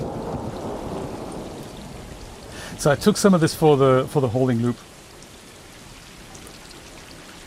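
Rain and rolling thunder in the game Stray, a steady wet rumble and hiss running throughout, with a person talking over it for a couple of seconds mid-clip.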